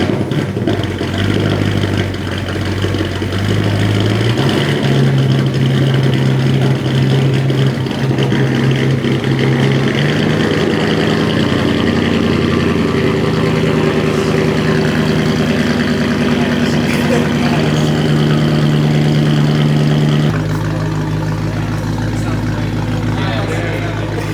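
A BMW 550i with a custom dual-exit exhaust idles loudly and steadily at close range. The low drone shifts in pitch a few times, and voices can be heard over it.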